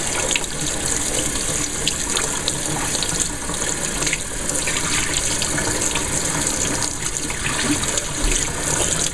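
A hummingbird feeder is rinsed under running tap water, giving a steady, loud, continuous splashing rush of water that runs unbroken throughout.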